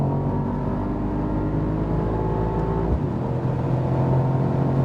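A Mercedes-AMG SL55 at full throttle on the Autobahn, its engine droning loudly from inside the cabin with a rising tone, a brief shift-like dip near the end, then continued strong acceleration under road and wind roar.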